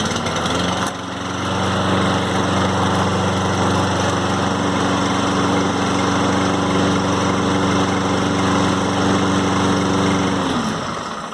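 A Lawnboy push mower with a Kohler engine, just cleaned out after running out of gas, catches within the first second and runs at a steady, loud, buzzing drone, then cuts off near the end.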